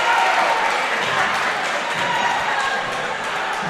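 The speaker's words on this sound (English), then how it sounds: "the crowd's getting into it" Crowd at a 3A NCHSAA state playoff round 2 high school basketball game, a dense, steady roar of cheering and clapping that fills the whole stretch, with faint voices mixed in.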